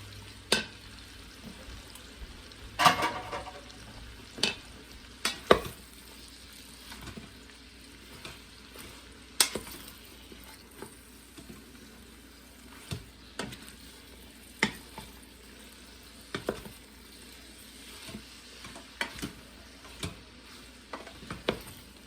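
Large Vidalia onions cook down in a pan with a quiet, steady sizzle, broken by occasional soft clicks and knocks of a utensil at irregular intervals, close but low in level.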